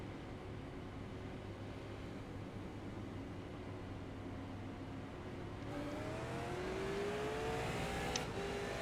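Super late model race cars in iRacing accelerating on a restart: a steady engine drone rising into climbing, revving tones as the field picks up speed, with a brief sharp noise near the end.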